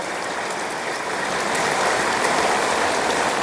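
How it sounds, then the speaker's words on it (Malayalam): Steady, dense rain pours down in a continuous hiss, loud and unbroken throughout with no voices. "നമ്മുടെ പുല്ലുകൾക്കും ചെടികൾക്കും എല്ലാത്തിനും ഒരു ഉന്മേഷം നൽകുന്ന മഴ"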